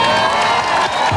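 Large crowd cheering and applauding at a 1991 Gulf War peace rally in Adelaide, a dense, steady roar of voices and clapping that fills the whole short stretch, with some shouting mixed in.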